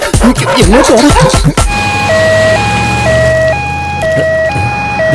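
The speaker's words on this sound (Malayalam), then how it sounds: "ആംബുലൻസ്." An ambulance siren wails loudly and close in a steady two-tone pattern, following a burst of sweeping, warbling siren tones at the start.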